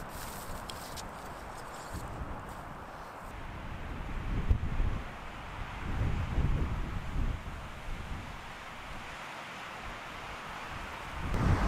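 Steady wind blowing across open country during a solo third-season mule deer hunt in Colorado, rumbling and gusting against the microphone for the whole stretch, swelling louder in the middle and near the end, with no talk.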